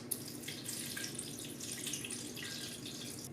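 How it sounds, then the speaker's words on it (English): Orange juice pours into a KitchenAid Pro Line blender jar, a steady close splashing trickle with small bubbling spatters, running continuously, fairly quiet, no speech. "I'm gonna pour in some orange juice"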